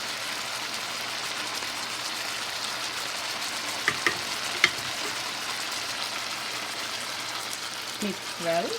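Garlic, green chili and ginger pastes with crushed tomato fry in a pan for a chicken thigh curry, a steady close sizzle with a few clinks and brief scraping near the end.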